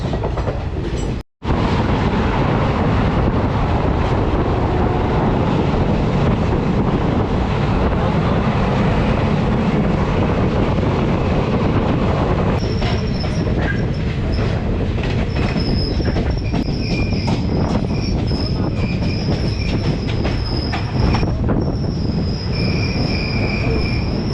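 The Vananchal Express, running from Bhagalpur to Ranchi in India, rushes past during a crossing with a loud, continuous rumble of rolling wheels and rhythmic clatter, later joined by shrill squealing tones for the rest of the long pass.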